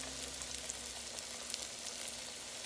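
Fried green tomatoes sizzle in hot, high grease, a close and dense crackling fry that runs steadily with small pops and no talking.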